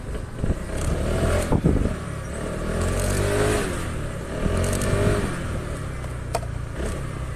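A Kymco 150 motorcycle engine with a noisy-engine fault idles nearby with a steady low rumble, swelling slightly at times, with occasional clanks and scrapes over it.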